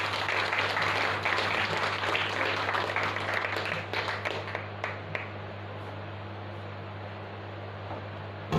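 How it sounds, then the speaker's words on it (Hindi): A congregation at a Sunday church service applauds to welcome the preacher, a dense burst of clapping that fades out after about five seconds, leaving a steady low hum. "तो आदित्य ताली के द्वारा उनका स्वागत"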